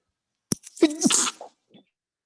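A single sharp sneeze bursts out up close, with a short breathy tail and a faint murmur right after.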